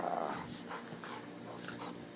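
A chihuahua and a labrador playing produce low, steady growling and grumbling that runs close and continuous for about two seconds, with no talk over it.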